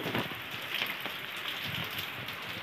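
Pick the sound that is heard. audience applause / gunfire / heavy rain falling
heavy rain falling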